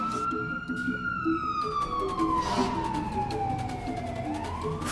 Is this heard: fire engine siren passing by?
yes